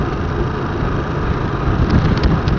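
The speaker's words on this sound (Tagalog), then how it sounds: "lakas ng hangin. Umaandar pa yung motor ko." A motorcycle engine's steady running rumble buried under heavy, roaring strong-wind noise, loud and constant, with no talking.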